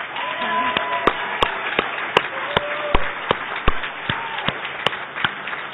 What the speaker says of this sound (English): I think we should all give Rhonda Dalgleen one more applause